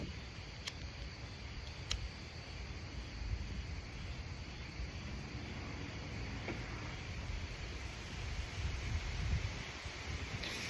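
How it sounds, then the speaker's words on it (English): Steady outdoor wind buffeting and rushing, with low rumbling gusts swelling and easing throughout and no one talking. "A little windy out here."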